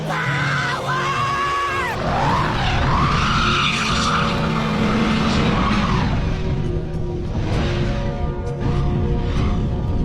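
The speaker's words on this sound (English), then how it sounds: "now only 2 of the wheels are spinning" A car's wheels spin hard in snow on an unplowed winter road, giving a loud, continuous revving whine with rising and falling engine pitch throughout, close to the listener.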